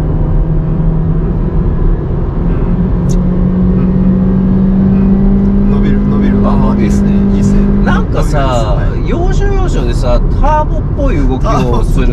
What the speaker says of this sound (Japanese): じゃあちょっと中間加速いきましょう。